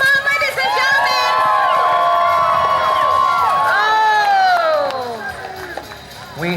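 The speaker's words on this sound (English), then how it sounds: "let's cheer him on, ladies and gentlemen" A crowd at a knight's tournament cheers and shouts for a rider, a loud, sustained mix of whoops, children's cries and babble with a long wavering call on top, fading slightly toward the end.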